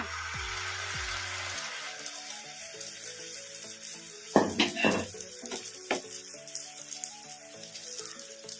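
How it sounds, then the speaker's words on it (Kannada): Egg and onion omelet bonda mixture is spread onto a hot pan over a medium flame, bringing a soft sizzle broken by a few clanks and scrapes of a utensil against the pan, with a low hum underneath. "ಇದನ್ನ ಮೀಡಿಯಂ ಫ್ಲೇಮ್ ಅಲ್ಲೇ ಫ್ರೈ ಮಾಡ್ಕೋಬೇಕು"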